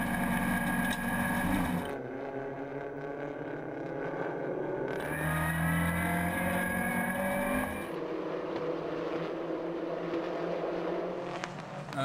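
Peugeot RCZ race cars roar around the Val de Vienne circuit during a Racing Cup race, engines rising and falling in pitch as cars pass, loud and near, with gear changes and overlapping engine notes throughout.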